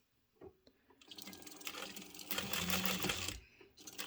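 A sewing machine stitching a decorative bag strap: after a few light clicks, a steady, rapid mechanical whirr builds and runs for a couple of seconds, close and fairly loud, then stops briefly and starts again.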